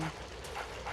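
A dog in the Luigi's Mansion video game gives short yips and whimpering barks, a few brief cartoonish calls in quick succession over a faint game background.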